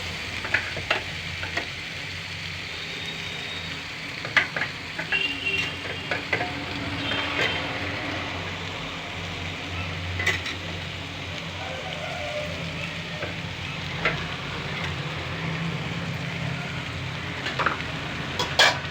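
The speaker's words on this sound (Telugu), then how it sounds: "వేగిన దాంట్లో వేసుకుంటే ఇలా వేయించుకుంటే" Shark fish with garam masala powder frying in a pan, a continuous sizzle with occasional clinks and scrapes of stirring, close and steady.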